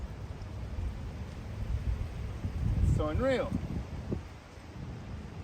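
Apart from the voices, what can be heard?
strong wind blowing outdoors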